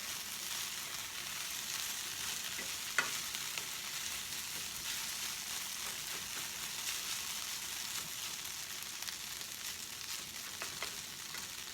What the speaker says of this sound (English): after they start cooking a little bit, is to mix them around so that the seasonings get mixed in